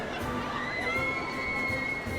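Crowds of people scream and shout on fairground rides, a dense, continuous mass of excited voices with high-pitched shrieks rising above the din.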